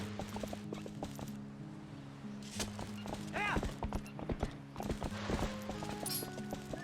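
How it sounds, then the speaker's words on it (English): Horse hooves clip-clop in The Legend of Zelda: Twilight Princess HD, a run of sharp, fairly close hoofbeats with a brief whinny partway through, heard alone at modest level. "I got a horse."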